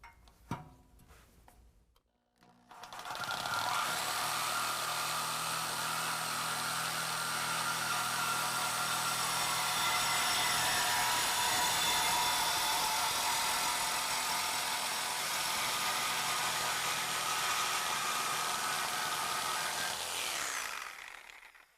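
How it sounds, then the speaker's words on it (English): Reciprocating saw cutting through the exhaust pipe behind the factory muffler of a 2022 Chevy Silverado 1500, a loud, continuous rasping buzz that runs about eighteen seconds close up before cutting off. "I'm going to cut right across here with a reciprocating saw and separate these two pieces"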